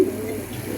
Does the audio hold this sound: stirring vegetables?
no